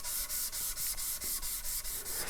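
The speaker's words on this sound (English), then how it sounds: "the other one is sanding in straight lines like this" Sandpaper rubs in straight back-and-forth lines over a nitro guitar finish, about ten even rasping strokes in a steady rhythm, close and fairly quiet with no talking.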